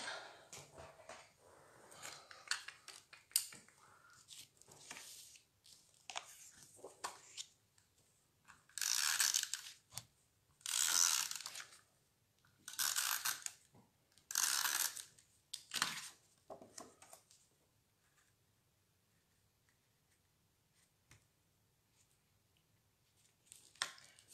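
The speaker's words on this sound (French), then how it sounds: "Donc je vais venir les coller directement." Cut card pieces being glued onto a greeting card in a papercraft project, giving soft rustling and handling noises, then four louder bursts of scraping in the middle, close and quiet with no talk.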